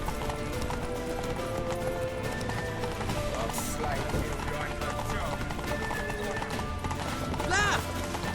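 Horse hooves gallop in The Witcher 3 game, a fast, steady clip-clop pounding that carries on throughout, with shouting voices and a brief whinny over it.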